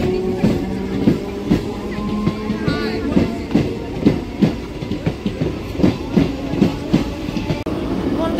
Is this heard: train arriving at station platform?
yes